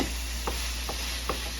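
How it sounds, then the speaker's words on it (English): Pork frying with onion in a pan, a steady close sizzle with three light spatula scrapes as the meat is broken up. "Now to just add the pork to the pan where the onion is."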